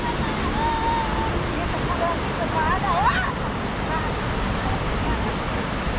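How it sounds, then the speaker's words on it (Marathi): Sea waves breaking against the shore at Harnai harbour on the Konkan coast, a steady broad wash of surf with wind, with faint distant voices and a brief chirping sound partway through. "मिसळलेल्या लाटा लहान दूरवर मिळतात आणि काठावर आदळून नष्ट होत असतात"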